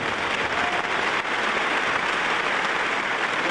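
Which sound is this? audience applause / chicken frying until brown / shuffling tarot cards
audience applause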